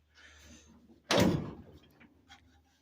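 The door of an old Hudson car being shut during a restoration, one sharp solid slam standing out clearly after faint rustling, followed by a brief decay and quieter handling noises.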